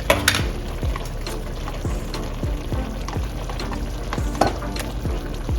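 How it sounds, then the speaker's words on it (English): Butter sizzling and frying in a pot of Jamaican brown stew chicken with ketchup, a steady close crackle broken by repeated sharp clinks and stirring knocks, with no talking. "when you hear that, that's the sound that some good food is cooking."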